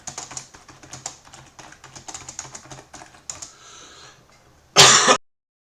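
Rapid keyboard typing clatters for a few seconds, then a single loud, close cough bursts out after a brief pause.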